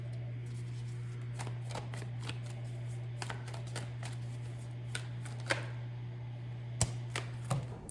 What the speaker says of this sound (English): Cards are coming out in clumps.